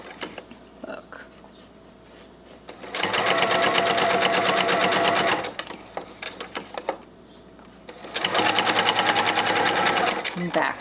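Sewing machine stitching a paper-pieced quilt, two loud steady runs of rapid needle chatter separated by a pause, with a quiet voice speaking between them.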